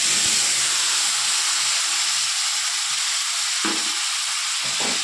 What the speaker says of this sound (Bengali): লাল লাল করে আলুগুলো ভেজে নেব